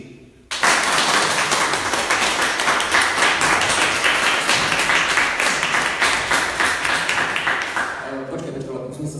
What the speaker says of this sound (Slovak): Dobre, dáme potlesk a 11 násobné,